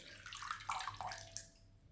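Water splashes and trickles as a soft sponge is dipped and squeezed, a few close, quiet gurgling bursts and drips with no talking.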